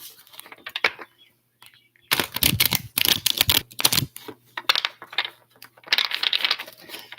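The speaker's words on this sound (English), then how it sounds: "give a little shuffle to these cards." Crisp bursts of tarot cards riffled and shuffled, several rapid rustling runs with brief pauses between, close and fairly loud.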